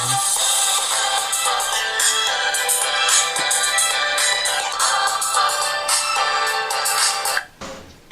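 A smartphone ringtone plays through the phone's built-in speaker, a bright repeating electronic melody in steady pulses, loud and close, stopping abruptly near the end.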